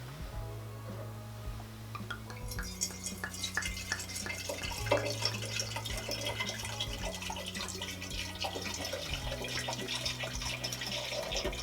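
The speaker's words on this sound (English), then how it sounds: "Did you hear how it was kind of glugging into the decanter?" Wine pours fast and steadily into a crystal decanter with gurgling, glugging bubbles, close and continuous, while low background music plays underneath.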